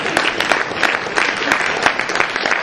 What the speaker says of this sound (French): Acclame bien pour le frère.